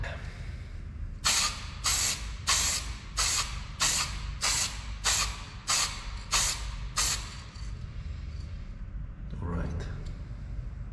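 A spray can lays a thin first coat on a VW Sharan headlight washer cap: about ten short, evenly spaced hissing bursts close by over a low background rumble, followed by a brief rustle.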